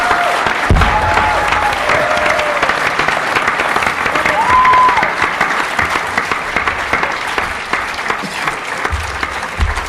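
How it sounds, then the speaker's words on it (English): An audience claps in sustained applause for distinguished guests at an event, a dense steady roar of many hands lasting throughout, with faint crowd murmur underneath. "I hope you all join me in giving them a great round of applause"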